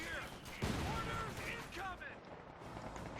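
Gunfire from a fighting position in the World War II strategy game Company of Heroes 2 crackles in scattered bursts, with one heavier report standing out amid battle noise and voices.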